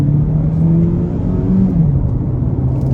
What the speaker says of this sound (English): off the line, we'll do it in comfort mode, but right here, off the line on the gas